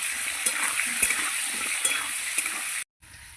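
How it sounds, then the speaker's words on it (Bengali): Potatoes with salt and turmeric fry steadily in a pan, giving a continuous, fairly loud sizzle with faint stirring clicks. The sound cuts off abruptly near the end, and a quieter sizzle follows. "ওদিকে তো আলু ভাজা বসিয়েছি"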